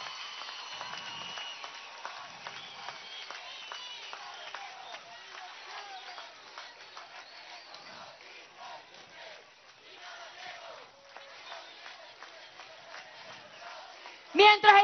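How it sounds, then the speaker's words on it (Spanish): Large crowd at a socialist missions rally for the president clapping and chanting together, a broad continuous roar of applause and voices lasting throughout, slightly distant, with a louder burst near the end. "Un aplauso para Chávez que se escuche en el corazón de todo el pueblo."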